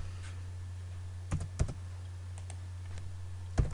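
A handful of crisp, close keystrokes on a computer keyboard as a command is entered, in short bursts over a steady low electrical hum.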